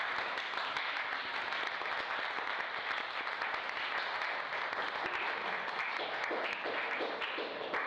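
Audience at the Delaware Art Museum applauding the curator of the Dreamstreets Project exhibition, a steady, dense wash of many hands clapping in a room, even in level throughout.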